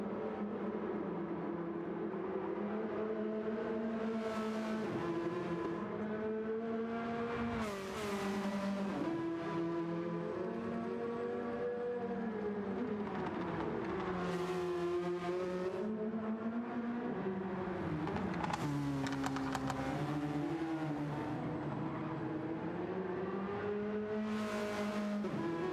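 BMW MINI race cars on track in a sim racing game, engines droning and revving steadily, pitch rising and falling through gear changes, with repeated louder passes and occasional tire squeal, no talk.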